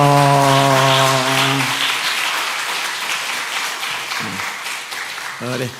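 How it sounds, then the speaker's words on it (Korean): A church congregation claps after a sung or spoken tone at the start, dense applause building for several seconds at moderate loudness, with brief voices breaking through near the end. "예, 박수 해주세요"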